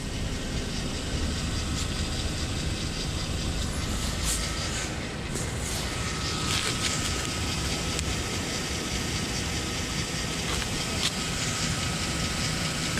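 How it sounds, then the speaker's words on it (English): A car engine runs steadily in Las Vegas, a constant idling drone with faint rattles that holds for several seconds, with no talk over it. "I gotta shut that engine off too."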